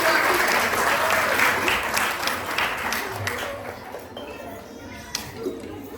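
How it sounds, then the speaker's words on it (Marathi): An audience at a celebratory program breaks into loud, dense applause that gradually thins and fades over several seconds, with a few scattered claps lingering at the end. "जोरदार टाळ्या होऊन जातात."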